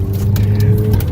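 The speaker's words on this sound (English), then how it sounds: "if y'all can hear them turbos and that blow-off valve" A 2019 McLaren 720S with turbos and a blow-off valve, giving a brief close engine whir with short breathy hisses, heard alone.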